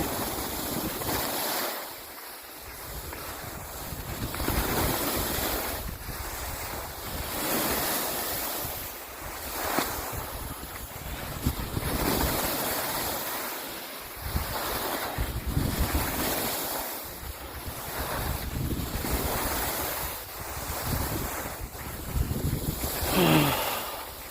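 Cold, steady wind roars across the microphone in strong gusts at Erciyes Ski Center under an overcast sky, a broad rushing noise that swells and eases without pause.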